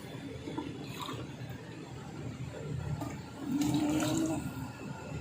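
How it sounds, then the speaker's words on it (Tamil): Water pours and splashes steadily, growing louder and fuller toward the end, with no voices. "தண்ணி ஊற்றுறேன்."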